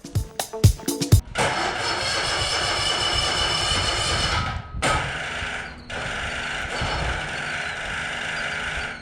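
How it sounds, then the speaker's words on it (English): A lawn mower engine cranks in a few short bursts, then runs in a steady mechanical drone interrupted by two brief dips, fairly loud and close with no one talking. "I can't get it started. Of course, it will turn over if I just turn a little bit"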